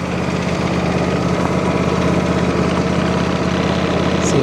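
A John Deere lawn tractor engine idles steadily as it warms up, giving a loud, even mechanical drone close by with no pauses or speech.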